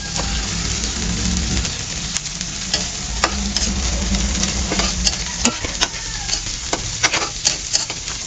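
Sliced onion and ginger sautéing in a hot pan, a steady sizzling hiss under repeated scraping stirs and sharp utensil clinks, loud and close, with no talking.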